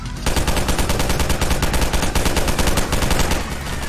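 Rapid automatic gunfire from a Garry's Mod horror map fires in a loud, sustained burst of closely spaced shots as zombies are shot at. It continues almost without pause and no one speaks.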